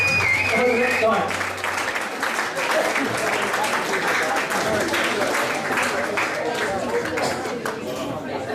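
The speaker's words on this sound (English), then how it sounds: "Jeff Allnut, big round of applause" Loud, close audience applause breaks out after a comedy song performance, with a few cheers and chatter mixed in, holding strong and steady throughout.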